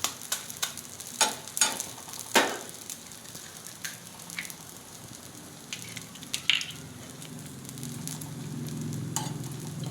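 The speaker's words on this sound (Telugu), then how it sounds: "ఎగ్ వేస్తున్నాను" An egg sizzling in a hot pan, a steady crackling fry with sharp pops and spatters scattered throughout, close and fairly loud with no talking.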